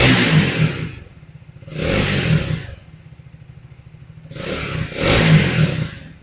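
A Triumph Speed 400 motorcycle engine is revved three times in quick bursts, each rising sharply then dropping back to a lumpy, pulsing idle, loud and close with no talking.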